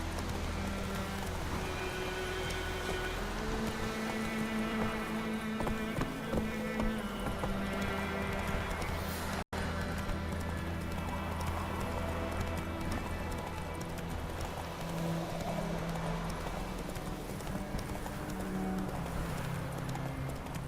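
Roach, Geralt's horse in The Witcher 3, gallops with a steady rapid clip-clop of hooves throughout, set against a continuous game ambience and music bed, with a brief sharp click near the middle.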